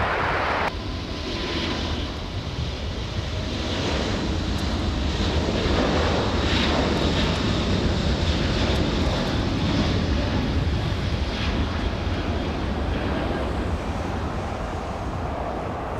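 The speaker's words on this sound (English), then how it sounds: "zoomed in on that Asiana as it takes off" An Asiana airliner taking off at Los Angeles airport (LAX), a broad, loud, sustained jet roar mixed with heavy wind noise on the microphone, steady for the whole stretch.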